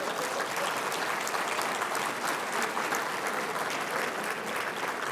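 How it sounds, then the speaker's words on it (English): Steady, dense applause from an audience at a university President's Council reception, filling the whole stretch evenly at a moderate, continuous level with no talking over it. "Let's give Ed a round of applause."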